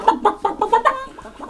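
A hen clucks loudly and close in a rapid run of about six evenly spaced clucks, tapering off at the end.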